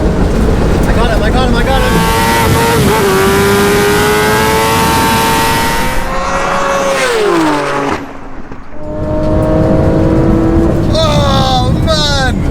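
A Porsche Turbo S, Tesla Plaid and Kawasaki Ninja street drag race, with a loud engine note rising in pitch through the gears, dropping briefly, then climbing again as the vehicles accelerate hard nearby, with excited voices over it.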